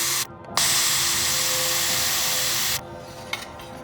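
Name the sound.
polishing soldered refrigerator tubing joints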